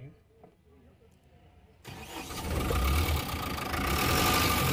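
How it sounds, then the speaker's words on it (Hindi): A Tata BS6 610 tipper truck's diesel engine cranks over a quiet background, then catches and settles into a loud, steady rumbling idle close by. "तो यहाँ पे जो गाड़ी स्टार्ट हो चुका है"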